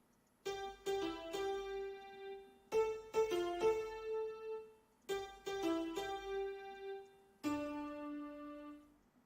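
Solo piano played flat and without expression: a short phrase of plucked-sounding notes and chords repeated in even groups, each attack decaying cleanly, quiet and close, with no talk.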